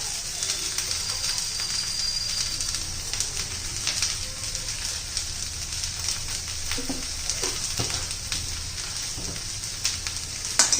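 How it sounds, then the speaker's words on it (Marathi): Okra (bhindi) cooking in a pan for a Navratri fasting dish, a continuous close frying sizzle with soft crackles and occasional stirring, no talk. "आपण दोन तीन मिनटं अशीच भेंडी शिजवून घेऊया"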